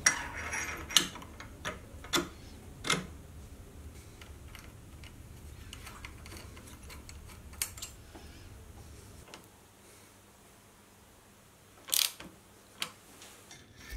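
Parts of a quill depth stop assembly being fitted and bolted onto a milling machine: scattered close metallic clicks and ratcheting ticks in a quiet workshop, with a louder pair of clacks near the end.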